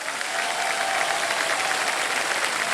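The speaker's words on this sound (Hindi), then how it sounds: "तालियां बज जाए।" A studio audience on the Hindi quiz show Kaun Banega Crorepati breaks into sustained, dense clapping that stays loud and even throughout, with no talk over it.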